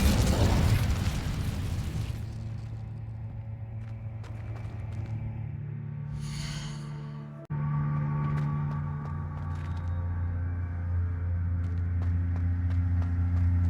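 Incendio fire spell cast in Hogwarts Legacy, opening with a loud roaring burst that eases into a sustained low rumble, followed by a brief whoosh and a second surge of steady crackling drone.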